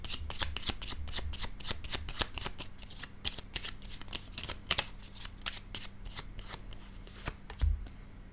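Tarot-style cards shuffled for a card reading, a long run of quick crisp riffling flicks close to the ear, with a soft thump near the end.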